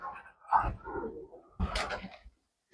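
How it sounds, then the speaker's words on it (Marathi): An imported middle-distance racing pigeon coos close by in two separate bursts, soft throaty calls separated by short pauses. "हा मिडल डिस्टन्स पक्षी आहे."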